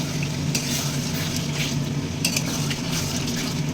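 Marinated meat, coated in salt, oil, turmeric and sour yogurt, sautéed and stirred in a pan, with a steady close sizzle and frying hiss, scraping and stirring scuffs, and occasional clinks of a utensil against the pan.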